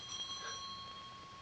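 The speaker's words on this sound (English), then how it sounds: "Answer the bell." A household bell rings for the maid in a 1940 Gaslight-era London home, a single bright metallic ring with a sustained tonal shimmer decaying quietly over low room hiss, with no voices.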